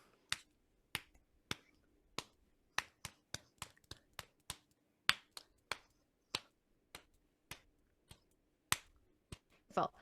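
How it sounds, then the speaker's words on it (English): Sharp single claps from one person's hands beat out the rhythm of a chanted rhyme in an elementary music class, about two dozen crisp, close strikes in an uneven pattern with silence between, no voices. "I want you to clap the way the words go"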